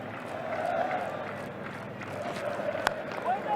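Steady crowd murmur at the Adelaide Oval during the fifth day of the 2006-07 Ashes cricket Test, a broad continuous wash of distant chatter with one brief sharp knock partway through.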